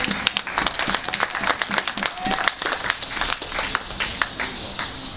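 A church congregation claps and cheers for Jesus during a French-language sermon, with scattered, uneven hand claps mixed with voices calling out, moderately loud in a large room.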